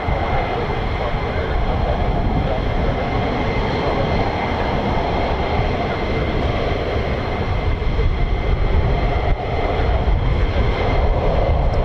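F-15 fighter jet engines at RAF Lakenheath produce a loud, continuous broadband roar that holds steady throughout, with a slight dip near the end.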